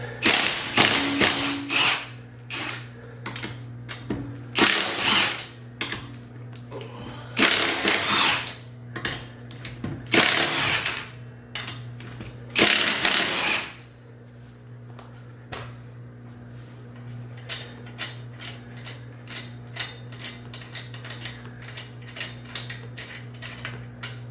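A cordless battery impact wrench fires in several loud, rattling bursts a few seconds apart, followed by a quieter stretch of lighter clicks and mechanical ticking nearby.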